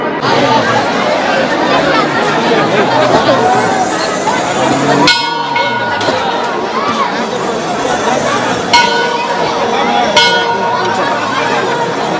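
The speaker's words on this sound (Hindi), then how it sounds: "और भाई बहुत ज़्यादा भीड़ है कसम से।" Dense crowd chatter fills a packed Hindu temple, a steady hubbub of many overlapping voices close around, with occasional sharp metallic clangs and ringing tones cutting through.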